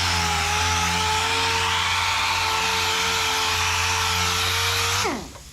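A power sander with 80 grit paper grinds steadily on a Daytona front valance, a loud close droning whine that holds for about five seconds, then spins down as the tool shuts off.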